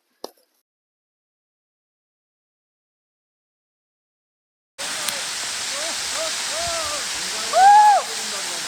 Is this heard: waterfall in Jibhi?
yes